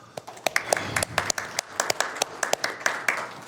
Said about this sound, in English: Perhaps a round of applause.